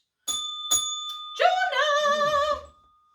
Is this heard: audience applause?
no